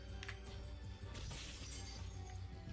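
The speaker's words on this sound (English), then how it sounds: "I have to try to break all the glass as fast as I can. And as you see, the explosion also kind of breaks the glass as well." Glass shatters and crashes in the video game TimeSplitters 2, dense bursts of breaking panes with an explosion mixed in, loud and busy throughout.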